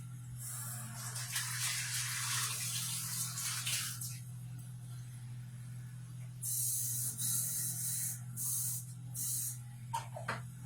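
Water spraying from a kitchen sprayer hisses in bursts as chocolate is rinsed off a baking utensil, with a constant low hum underneath and a brief clatter near the end.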